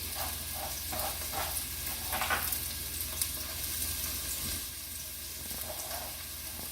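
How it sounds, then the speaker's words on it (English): Garlic dropped into a hot pan with oil, sizzling steadily with a busy crackle and a few brighter bursts, close and fairly quiet, no talking over it. "I am going to drop in my garlic, and you can hear it begin to sizzle."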